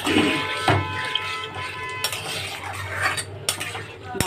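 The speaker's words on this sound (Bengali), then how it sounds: "সেই জলটা শুদ্ধই ঢেলে দেবো, দিয়ে ভালো করে নেড়ে চেড়ে নেব।" Paneer curry being stirred in a pan after its soaking water is poured in, with a spoon scraping and clinking against the metal close up and a faint sizzle underneath.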